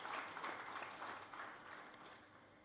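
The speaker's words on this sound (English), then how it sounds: "a round of applause, please." Faint applause from an audience at a corporate event honoring guests, a soft wash of clapping that slowly fades.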